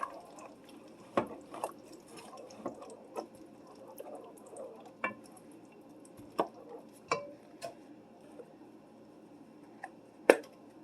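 Prego meat sauce is stirred in a Dutch oven for a chili dog casserole, producing faint, sparse wet clicks and soft taps scattered irregularly over quiet background.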